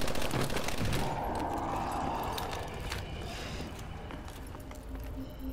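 Rapid automatic gunfire and repeated shots fill the scene in Call of Duty Advanced Warfare Exo Zombies, a dense, loud, continuous fusillade with mechanical clatter throughout.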